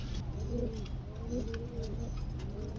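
Satin pigeons coo in low, rolling calls that repeat every second or so, close and steady over a faint background hum, with no talking.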